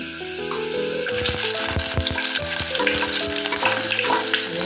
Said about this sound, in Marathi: दोन मिनिटं जरा कलर चेंज होईपर्यंत लसूणचा. त्यात कांदा टाकते,